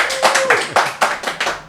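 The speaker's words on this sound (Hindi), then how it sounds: "तालियां यहाँ बननी चाहिए।" Audience clapping at a Hindi talk show, a handful of loud, sharp claps in a loose uneven rhythm over about two seconds, close to the microphone, with a voice briefly heard alongside.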